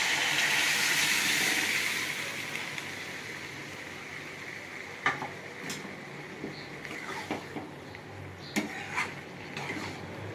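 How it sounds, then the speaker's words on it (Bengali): Boiled moong dal goes into a hot pan with fish head. A strong sizzling hiss at first fades into a few scattered clinks and scrapes of a spoon stirring against the pan. "আমার সিদ্ধ করা ডাল আমি দিয়ে দেবো, মুগ ডাল"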